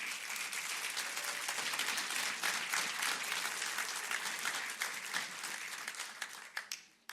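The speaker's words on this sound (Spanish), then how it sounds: "Denle un aplauso al Señor." A church congregation applauds during a sermon, broad steady clapping sustained for several seconds before thinning out and fading near the end.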